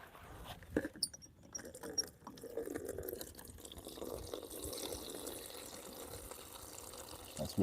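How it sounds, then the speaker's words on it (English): Water from a rainwater tank pours and splashes, rising from scattered drips into a steady trickling fill that continues to the end, with faint background noise. "That's water from my rainwater tank."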